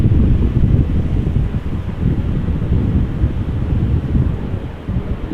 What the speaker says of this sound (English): Boeing 737-700 from Transavia taking off to Olbia.